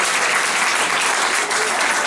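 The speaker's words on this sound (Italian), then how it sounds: "Quindi un applauso a loro." Loud, dense applause from the audience at a Christmas recital in Trapani, a continuous roar of clapping for the performers that holds steady throughout.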